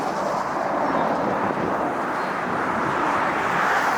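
A Singapore Airlines Boeing 777 on its takeoff roll at LAX, a steady loud broadband jet roar with no breaks throughout, no voices.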